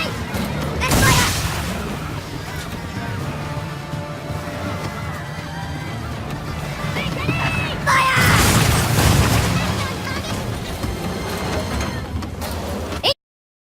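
Ship cannons firing during a naval battle in Assassin's Creed III, with two heavy booming broadsides about seven seconds apart over constant sea and battle noise, voices talking underneath.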